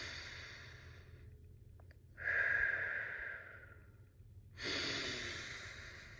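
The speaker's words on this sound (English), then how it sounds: "So take a deep breath with me." A person takes a slow, deep breath in, guided as part of a calming exercise: a soft airy inhale swells and fades close to the microphone, followed after a pause by another breath.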